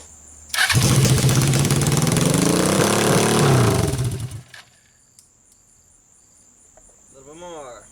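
Suzuki GS500 engine fitted in a mini buggy, running on choke: it fires up abruptly and roars loudly and close for a few seconds, then cuts out into near silence with faint background noise.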